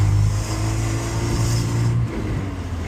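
A Porsche 944 engine runs rough and misfires, a loud, close, uneven low rumble with a stumbling, lumpy beat that dips briefly near the end.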